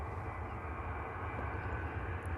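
Ryanair airliner at Manchester Airport, a steady, loud engine roar with deep low rumble holding evenly throughout.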